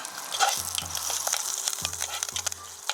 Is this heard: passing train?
no